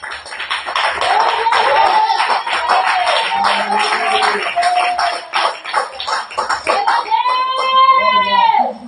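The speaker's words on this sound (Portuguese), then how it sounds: "Dá uma salva de palmas" Congregation clapping in a church service, a dense steady patter filling the room for several seconds while voices speak and sing over it, with a sustained voice rising near the end.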